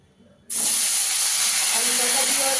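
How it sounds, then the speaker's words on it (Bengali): Potatoes drop into hot oil in a wok, a near-silent moment giving way to a sudden loud burst of sizzling that settles into a steady, close hiss with light crackling. "এবার আলুটাকে ভেজে নেব।"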